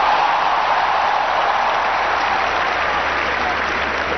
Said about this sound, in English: It's a huge round of applause.